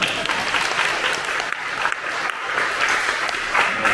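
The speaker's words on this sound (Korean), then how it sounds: "박수 한번 보내주십니다" Applause fills a room at a hospital administration group discussion presentation, honouring the group's members; the clapping is steady and moderately loud, dipping briefly midway before swelling again.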